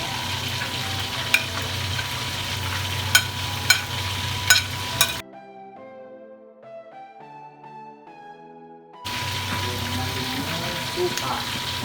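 Onion sautéing in a pan with carrots for sweet and sour lapu-lapu fish, a busy close sizzle with a few sharp clicks. It drops out partway through, a short stretch of music plays, then the frying returns.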